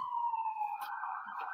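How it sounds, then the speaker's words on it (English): An emergency siren passing through a city, a steady, slowly falling wail heard from a moderate distance and fairly faint, with brief small noises but no talking. "Hold on, there's a siren."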